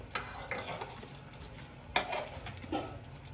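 Fish curry masala sautéing in a pan, a low steady sizzle with a few brief scrapes of a spoon stirring against the pan, quiet and close, with no speech.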